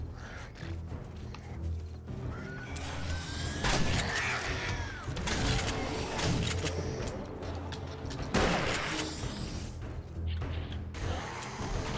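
Gunfire in the video game 7 Days to Die during a rescue, busy and continuous, with sharp bursts around four and eight and a half seconds over a dense rumbling game mix.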